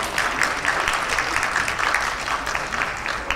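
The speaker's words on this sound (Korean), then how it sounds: "다시 한번 큰 박수 한번 부탁을 드리겠습니다." Applause from the audience at a press conference for an Asian song festival, an even, moderately loud spread of clapping hands throughout, with no voices over it.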